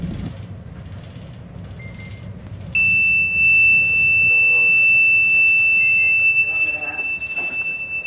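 A Navgard BNWAS bridge navigational watch alarm on a ship's bridge sounds a loud, steady high-pitched tone that starts abruptly partway through and holds continuously over low background rumble.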